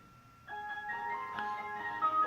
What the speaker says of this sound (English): that's an ice cream van in the background